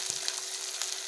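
Chopped onions hit hot oil and fry with a bright, steady hiss, close and moderately loud, marked by a couple of faint crackles and nothing else.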